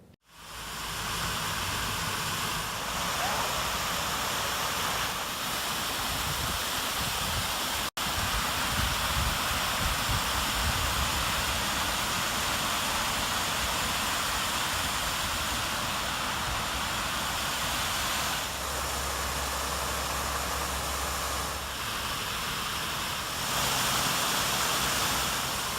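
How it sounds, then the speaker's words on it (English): Waterfalls at a memorial run during a test, a steady broad rush of falling water that holds level and fairly loud for the whole stretch, with no voices. "We were able to do a test run of the waterfalls this fall"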